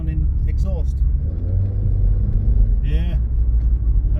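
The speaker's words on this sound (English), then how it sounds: "Quite a throaty sounding exhaust." A Vauxhall Astra Mk3 1.6 with a throaty exhaust pulls hard under kick-down acceleration, its deep engine drone heard steadily from inside the car as people talk over it.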